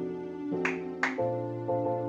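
Two sharp hand claps set off a clap switch for a tube light, each a crisp, close transient about half a second apart, heard over a steady tonal hum that shifts after the claps.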